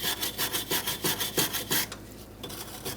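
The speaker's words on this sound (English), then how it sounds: "I'm using a wire brush to get the excess rust off." A wire brush scrubs excess rust from the ball joint area of a 2004-2009 Mazda 3 front suspension, quick rhythmic rasping strokes close up, stopping near the end.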